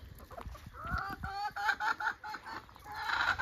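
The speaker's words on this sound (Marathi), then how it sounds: "नुसतं डबा खोललाय तर कोंबड्या इथे सगळ्या आसपास येऊन थांबलेत" Several free-range village chickens cluck and chatter close by in uneven bursts around an opened feed container, with a low background murmur underneath.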